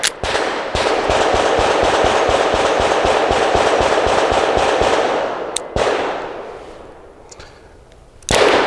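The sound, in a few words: Springfield Armory Prodigy pistol firing Hornady Critical Defense rounds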